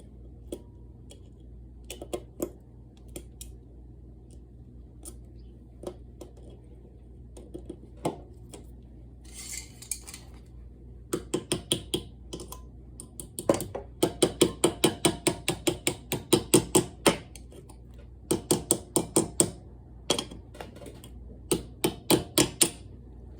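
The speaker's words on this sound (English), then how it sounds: "we're going to go ahead and remove the cotter pins from the castle nut" Metallic clicks and small ratcheting taps while cotter pins are worked out of an ATV wheel's castle nut, sparse at first, then dense clustered bursts of sharp ticks, close and fairly quiet with no talking.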